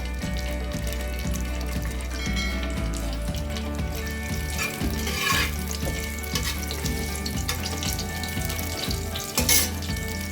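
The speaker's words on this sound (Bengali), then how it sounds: "এবারে ফোড়নটা দিয়ে দিলাম, তেজপাতা আর জিরে" Whole spices, bay leaf and cumin, tempering in hot oil in a pan for chicken khichuri, a loud steady close sizzle with frying crackle throughout, no talk.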